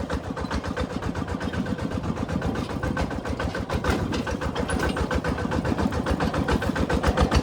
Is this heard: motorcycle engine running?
yes